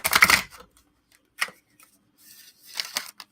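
Quick riffling bursts from a tarot card deck being shuffled by hand, three separate shuffles with short pauses between them, close and crisp.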